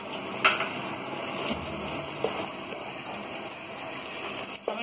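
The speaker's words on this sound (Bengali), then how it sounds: "ততক্ষণ অবধি কষতে হবে টমেটোটা, যতক্ষণ না এটা পেঁয়াজের সাথে সেদ্ধ হয়ে যায়।" Chopped medium tomatoes fry with onions in a pan for Bengali-style mutton kosa, a soft, steady sizzle with occasional stirring clinks and scrapes of a spoon, fairly quiet and close.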